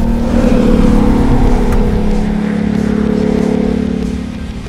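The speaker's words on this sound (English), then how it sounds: "Do a nice little turn here, and we'll go give it back to my buddy, Robb Holland." A 2021 RAM 1500 TRX pickup truck driving off road, a loud close low engine rumble held steady through a turn before easing slightly at the end.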